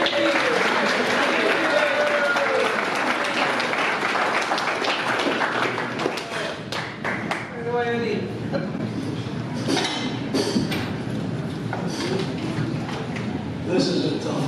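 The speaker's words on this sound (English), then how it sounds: "Round of applause, please, for Mr. Andy" A room full of guests at a celebration-of-life memorial gives a sustained round of applause lasting over ten seconds, with some talk and faint clinking of dishes and cutlery underneath.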